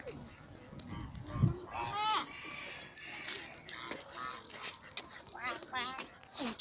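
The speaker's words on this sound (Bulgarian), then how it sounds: "Виж, патите." Ducks on an island in Pazardzhik quack and honk in repeated bursts at moderate distance, mixed with people talking nearby.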